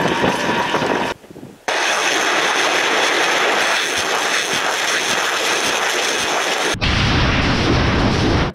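A loud, roaring rush of rocket artillery battery launches during a Northern Fleet military exercise blasts continuously, broken by a short drop in sound and then a harsher burst near the end.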